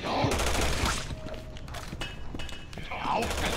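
Gunfire in Resident Evil 6 crackles through a dense game soundtrack, with sharp shots and mechanical clatter at moderate level amid background game noise and a voice.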